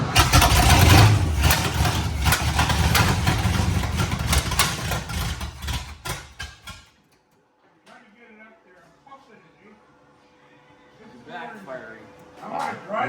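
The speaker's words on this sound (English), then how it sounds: "Backfiring." Pontiac GTO engine cranking and running roughly with popping backfires, loud and near for about seven seconds, then cutting out to quiet background with people talking.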